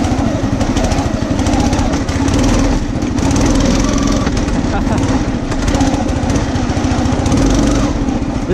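A homemade motorized lawn chair's small hemispherical engine revs hard and steadily up close, a loud buzzing roar with rhythmic throttle pulses and a voice talking over it.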